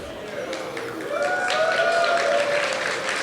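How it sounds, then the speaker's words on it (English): An audience applauds at a PyCon lightning talks session, a steady wash of clapping from a crowd that swells slightly and holds for a few seconds. "That's a sort of 3-star applause"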